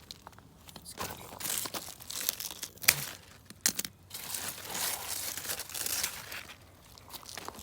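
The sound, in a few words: cutting a ripe cantaloupe melon off the vine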